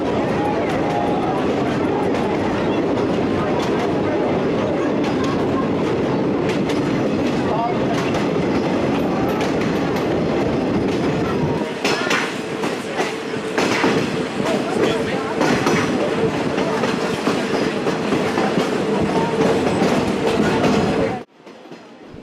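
A historic route train rumbles along the rails with steady clickety-clack, loud and continuous from onboard, a narrating voice running over it until the noise cuts off near the end.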